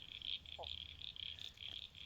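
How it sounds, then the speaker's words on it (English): A small frog gives a single short croak outdoors, close but soft, set against a steady high chorus of insects or frogs buzzing behind it. "Listen to that little frog."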